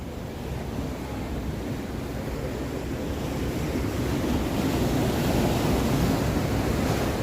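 Sea surf washes continuously onto the rocky shore of Yarada Beach in Vizag, a broad steady roar of waves mixed with wind buffeting the microphone, growing slightly louder toward the end, with no voices.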